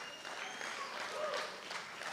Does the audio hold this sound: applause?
yes